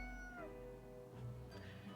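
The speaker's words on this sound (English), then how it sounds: "The cat repeats a sequence of contented meows" Contented cat meows from the video game Death & Taxes, a short run of soft, tonal calls that rise and fall over a low steady background hum, close and moderately loud.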